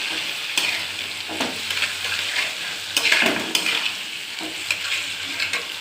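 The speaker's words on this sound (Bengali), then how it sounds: "দইটা দিয়ে এটা ভালো করে কষিয়ে নেব।" Chicken curry with potato, papaya and carrot is stirred in a pan with yogurt over low heat, giving a steady sizzle broken by repeated scrapes and clinks of the spoon against the pan, with no talk.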